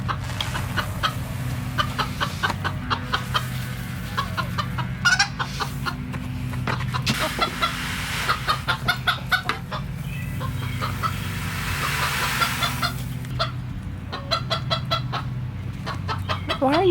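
A flock of backyard chickens clucks and squawks continuously nearby, busy overlapping calls filling the whole stretch with no talking.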